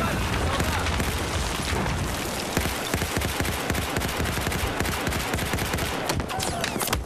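Gunfire in Battlefield 4 on the Giants of Karelia map keeps up dense, rapid cracks and booms that overlap into a continuous loud barrage, with a voice talking over the chaos.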